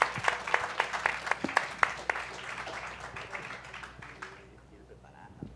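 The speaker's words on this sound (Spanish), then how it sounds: "les pido por favor un fuerte aplauso a Pedro Helguera" Audience applause for Pedro Helguera: sharp, fairly close claps ring out in a quick, uneven burst from a modest crowd, thinning and fading away over the last seconds.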